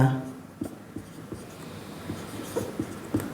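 A pen writes out the answer to a Class 10 math exercise, making soft scratching strokes and light taps in a quiet room with faint background noise.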